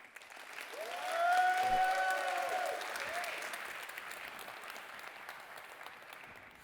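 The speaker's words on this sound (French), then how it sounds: "Merci de l'applaudir." An audience at a tech talk on Angular applauds, clapping that swells quickly, holds, then tapers off, with whistles and a few voices over it early on.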